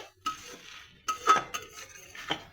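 A spoon stirs banana flower curry with chickpeas in a pot: a few quiet scrapes and clinks against the metal come in irregular bursts, close by and alone with no talking.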